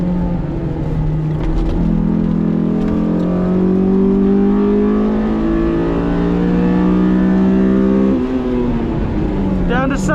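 A Honda S2000 engine revs hard and steadily as the car laps a race track, rising in pitch through the gears. The loud, continuous drone carries on under occasional talk.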